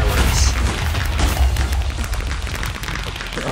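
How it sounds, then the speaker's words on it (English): Loud fireworks bursting in the Minecraft Blockparty minigame, a dense run of deep booms and crackling blasts that roll on steadily for several seconds with no voices. "Here's loud fireworks."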